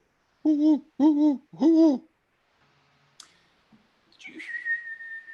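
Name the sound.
person imitating an owl hooting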